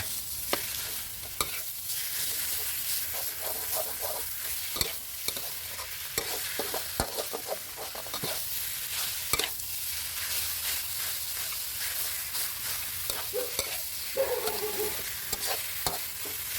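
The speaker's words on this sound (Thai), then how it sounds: "ต่อจากนั้นเราก็จะใส่เป็นหมูสับลงไปผัดด้วยกันครับ" About 500 grams of minced pork stir-fries in a pan for a Thai bamboo-shoot curry, a steady loud sizzle broken by frequent spatula scrapes and clacks against the pan.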